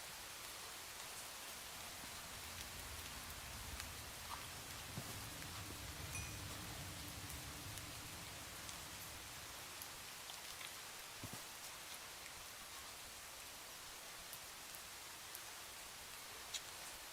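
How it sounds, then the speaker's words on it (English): Steady, soft hiss of rainfall in Minecraft, a continuous even patter with no voices, faint and unchanging throughout. "I don't like when it's raining."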